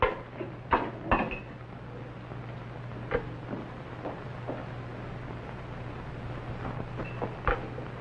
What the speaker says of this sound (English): Put that glass jug into the testing chamber.